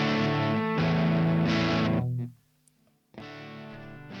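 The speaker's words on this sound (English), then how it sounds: "And a compressor." Electric guitar played through a compressor on a Roland SP-404 MK2 sampler, with even, sustained crunchy chords that fade to a brief silence before another chord rings out.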